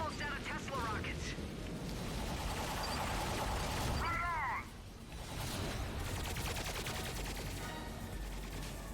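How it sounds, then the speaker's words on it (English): Tesla rockets firing in the Ratchet & Clank (2016) game, a dense crackling barrage of electric blasts and bursts with whooshing sweeps, continuous and loud. "We must use our Tesla rockets."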